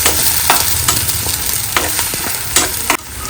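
Onion, green chili and egg sizzling in a pan while being stirred, a steady bright frying hiss broken by repeated scraping strokes of the spatula, close and loud with no talking.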